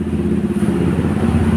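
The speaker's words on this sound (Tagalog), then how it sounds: "At narinig ko po yung mga motor." Motorcycles, including a Motorstar Cafe 150 cafe racer, idling at a Motorstar dealership in Santa Rosa, Laguna, a loud steady low engine rumble with slight uneven pulsing, close by and without voices.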